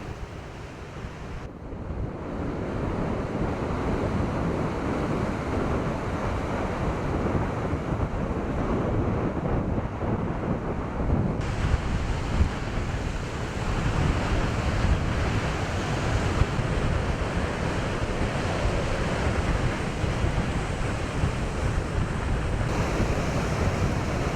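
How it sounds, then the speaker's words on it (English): Ocean surf and strong wind at Hope Town the day before Hurricane Irene, a constant loud roar of breaking waves mixed with buffeting wind noise on the microphone, with no voices. "Here Andrew and Joe Thompson take advantage of the day before waves"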